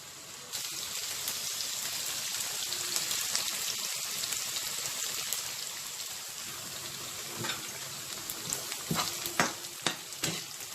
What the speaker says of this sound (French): Ici, nous avons notre poisson qui est en train de frire.